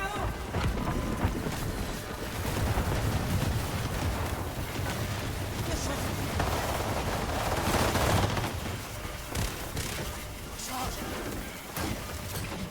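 Rapid gunfire in the video game Highguard, dense bursts of shots layered over a loud, continuous game soundscape, with a player talking over much of it.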